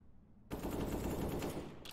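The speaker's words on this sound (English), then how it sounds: "Spat from the barrel of the gun of an AK-47." AK-47 gunfire in Counter-Strike on the map Vertigo, a sudden close burst of rapid automatic shots that runs for more than a second and then cuts off.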